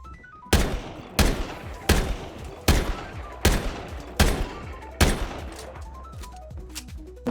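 Gunfire in the video game Strinova: seven loud, evenly spaced shots roughly every seven-tenths of a second, each a sharp crack with a short ringing tail, with no talking.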